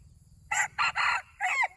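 A rooster crows in several broken bursts close by, loud and bright over a low background rumble.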